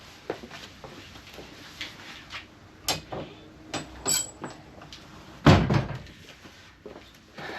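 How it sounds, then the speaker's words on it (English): A door swings and thuds shut with a solid knock, amid scattered handling clicks and small knocks in a quiet room. "Just gonna shut the door."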